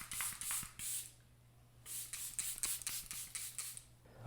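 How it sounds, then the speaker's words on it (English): Several short hissing bursts of makeup setting spray, close by, in two quick clusters separated by a brief pause. "I need to get some setting spray."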